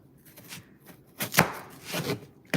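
Knife chops through potato wedges on a small cutting board in a home kitchen, a few sharp knocks spaced irregularly, fairly close and moderately loud with no talking.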